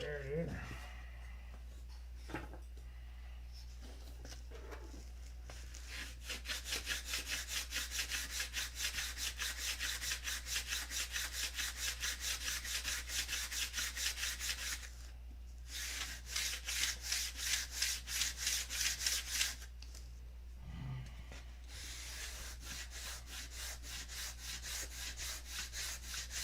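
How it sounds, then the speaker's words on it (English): A sanding block rubs back and forth over wood in quick, rhythmic strokes, close and fairly quiet, with pauses between bursts and a low steady hum underneath. "Where's my sanding block? There it is."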